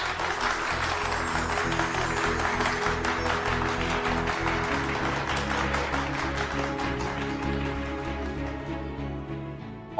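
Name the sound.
loud applause for the couple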